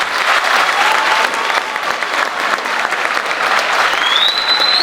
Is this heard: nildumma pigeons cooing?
no